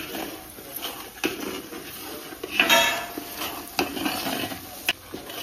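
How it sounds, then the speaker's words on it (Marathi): Chopped cashews and almonds sautéing in ghee in a pan, heard as close spoon scrapes and sharp clinks against the metal over a light sizzle, with a few louder knocks spaced through. "आपण काजू आणि बदाम तुकडे करून घेतले बारीक ते ऍड केले ते पण परतून घेऊ मस्तपैकी"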